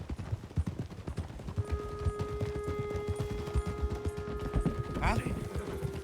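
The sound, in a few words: horse hooves and whinny in video game Red Dead Redemption 2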